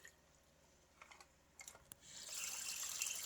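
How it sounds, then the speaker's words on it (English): Fresh water runs into a plastic denture case, preceded by a few light clicks and taps of the case, then a brief rushing pour toward the end, quiet and close, with no talk. "Put my fresh water in there."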